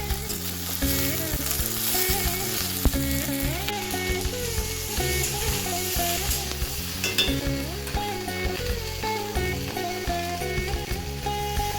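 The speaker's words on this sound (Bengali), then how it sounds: "সবজিগুলো ভাজা ভাজা করে নিয়েছি আলুটা দিয়ে একবারে নাড়াচাড়া করে" Mixed vegetables and potatoes fry in a pan, giving a loud continuous sizzle with repeated scraping and clinking as they are stirred, and no voices.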